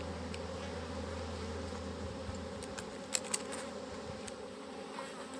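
Honey bees buzz in a dense, continuous swarm around an open hive, a steady close hum with a couple of faint clicks partway through and no voices.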